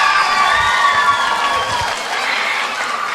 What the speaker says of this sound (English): him another round of applause, everyone.